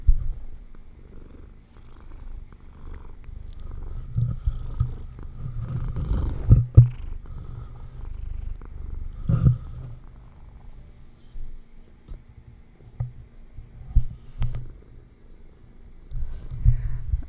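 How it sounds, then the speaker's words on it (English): A gray-brown cat purrs steadily and close up, a low continuous rumbling purr that rises and falls with her breathing, with occasional faint knocks and rustles. "Can you hear the purring?"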